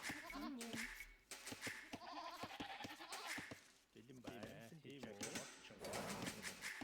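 Sheep bleat repeatedly in Age of Empires II game audio, wavering calls overlapping with clicks and other game sounds at a steady moderate level.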